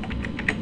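Keys clack on a computer keyboard as a web address is typed: a short, close run of about four quick taps in under a second, with no voice.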